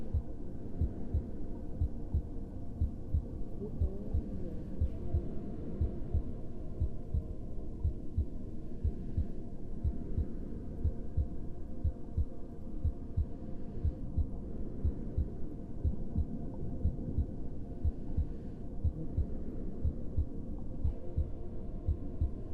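A steady heartbeat-like low throbbing pulses continuously under a soft ambient hum, with no other sounds, in the setting of a womb-themed meditation.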